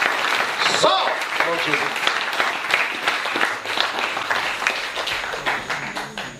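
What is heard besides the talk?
congregation applauding the Lord in church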